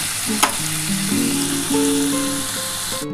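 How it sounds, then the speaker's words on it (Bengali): Potatoes sizzle steadily in a hot pan, a dense close hiss with a few faint stirring knocks and tones through the short stretch. "এবার আমি আলুটা দিয়ে দিলাম আলুকে একটু লাল লাল করে ভাজ ভেজে নিতে হবে"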